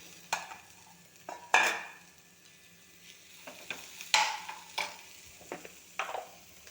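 Cooked jackfruit seeds and spinach are stirred into masala frying in a pan, giving a steady sizzle with several sharp scraping and clattering stirs of a spoon at irregular intervals, close by and with no talking.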